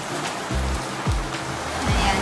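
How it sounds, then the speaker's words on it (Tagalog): Heavy rain pours down in a steady, dense roar, with a few dull low thumps rising out of the continuous wash; no one speaks. "Napakalakas ng ulan."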